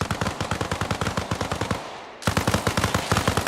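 Sustained automatic machine gun fire in Arma Reforger, loud and close, a rapid steady stream of shots with a brief pause before the burst resumes.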